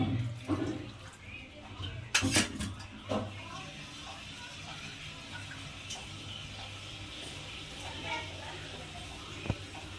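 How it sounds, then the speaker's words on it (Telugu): Water splashes into a pan of stuffed brinjal curry with a steady, noisy rush, a few sharp clinks standing out near the start. "కొన్ని వాటర్ వేసేస్తున్నాను"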